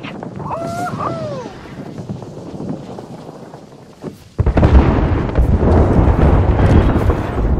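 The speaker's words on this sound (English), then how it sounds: "They're shooting at me! Airstrike!" Airstrike explosions in Apex Legends boom loud and close, a heavy blast bursting in after a calmer stretch of wind-like rumble and distant shots, then rolling on in dense roaring noise.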